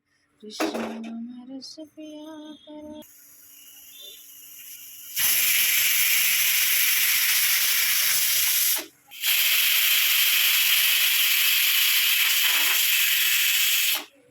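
Pressure cooker boiling potatoes on a home kitchen stove lets out a loud, continuous steam hiss that runs for several seconds, breaks off briefly, then resumes, after some earlier clatter.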